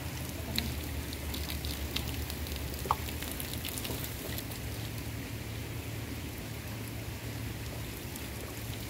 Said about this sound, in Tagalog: Ang sarap ng ulan!